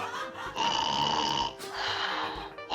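Snoring sound effect like a heavy truck: two long, loud, rasping snores in a row, each a sustained rough rumble with a brief pause between, alone without talk.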